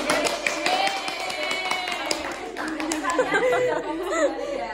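A class claps together in a burst of quick, scattered applause over lively chatter and a few voices speaking near the end.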